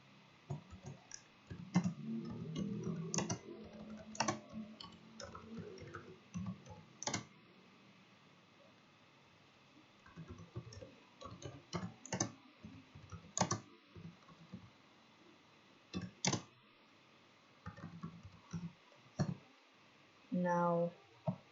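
Someone types a true-or-false quiz statement on a computer keyboard, producing quiet, irregular bursts of clicking keystrokes spread across the stretch, with a soft voice briefly talking early on.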